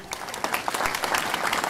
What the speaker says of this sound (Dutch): Graag een applaus voor Theo Zwartjes